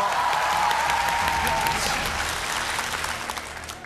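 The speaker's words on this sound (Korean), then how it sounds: "박수 안 치나요?" A live audience applauds after a pigeon magic troupe's trick, with dense, steady clapping that holds throughout and eases slightly toward the end. A brief sustained tone sounds early on.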